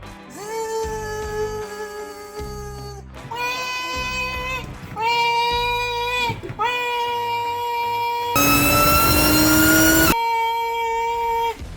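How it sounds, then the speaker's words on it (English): A Holden Monaro fitted with a drive-by-wire setup revs hard through the gears, its loud engine note climbing in several long pulls broken by brief gear changes, the last pull the loudest and harshest. "It's because third gear just takes so long to rev out."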